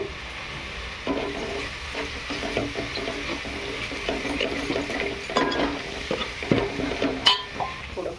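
Homemade masala with red chilli powder for a Kolhapuri-style chicken rassa curry, stirred and sautéed in a pan, a steady sizzle with scraping spoon strokes and occasional clinks, close and continuous with no talking.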